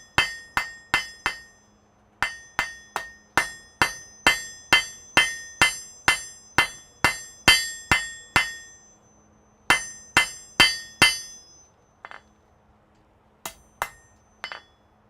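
A hammer striking metal in a smithy to flatten it, sharp ringing blows in quick regular series, loud and close, with short pauses between runs.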